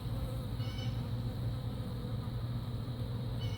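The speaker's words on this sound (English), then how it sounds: "He's checking out that one bee." Honeybees buzz steadily around a hive entrance in an apiary during a robbing attack, a dense continuous hum of many wings close by, with no talk.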